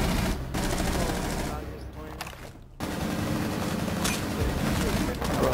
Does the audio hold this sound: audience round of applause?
no